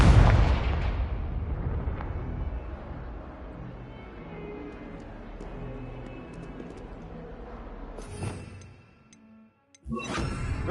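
Confringo fire spell exploding in Hogwarts Legacy: a loud blast opens, decaying into a long rumbling tail, followed by a brief silence and fresh sharp bursts near the end.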